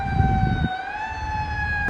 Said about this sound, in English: Oh no, there's a siren.